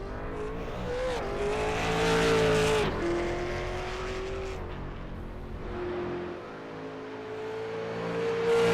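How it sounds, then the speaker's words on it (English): A street stock race car on the racetrack during night qualifying roars loud and close, its engine pitch climbing and dipping through gear changes and corners, then swelling again at the end. "Chase Pierce, the first car on the racetrack,"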